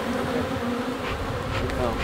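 Honey bees buzz in a dense, steady swarm close by around an open hive being smoked, a continuous droning hum that holds throughout without talk.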